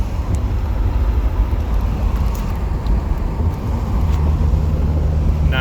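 A G-body Pontiac Grand Prix with a swapped turbocharged 3800 V6 and T56 manual gearbox cruises in fifth gear, its engine and road noise a steady, even drone heard from inside the car.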